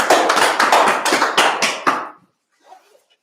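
A small group at a Friday night language class clapping in a brisk, loud burst of about two seconds that stops abruptly, followed by a faint bit of sound.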